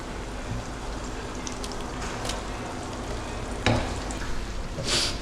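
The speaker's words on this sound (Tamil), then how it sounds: "வெங்காயம் இப்போதைக்கு போட்டு வதக்கிட்டு இருக்கோம்" Onions sautéing in a pan for prawn biryani, a continuous close sizzle and crackle with occasional louder bursts of stirring and spatter, with no talking.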